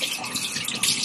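Running water from a bathroom sink splashes steadily as a face is rinsed after cleansing, a close, continuous hiss with small splashy surges and no voices.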